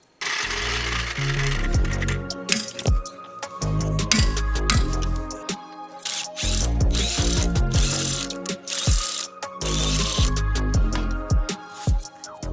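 Ratchet wrench loosening a car's wheels, bursts of rapid close clicking repeating over several seconds with short pauses between runs, and metallic clinks in between.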